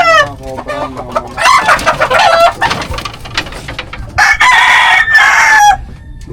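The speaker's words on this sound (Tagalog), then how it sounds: "Ito pa isang manok." Chickens cluck steadily while a rooster crows loudly twice, with a long crow near the start and another near the end, all close and without any talking.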